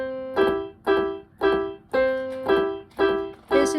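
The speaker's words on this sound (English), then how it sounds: "This is a very like accompaniment like sound" Left-hand piano accompaniment pattern played as a repeating figure of six evenly spaced chordal strikes, each bloom of sustained harmonics decaying before the next, clear and close with no talking.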